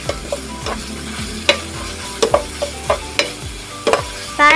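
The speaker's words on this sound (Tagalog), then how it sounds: "Lagay na rin natin itong sibuyas ko. Gisa-gisa lang." Chopped onions being sautéed in a pan with ground meat, the spatula clacking and scraping in a string of sharp, uneven strokes over a steady sizzle, close and fairly loud with no talk.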